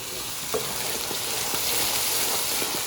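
Masala fries in oil for chicken changezi, a constant bubbling sizzle with light stirring scrapes, close and steady with no talk.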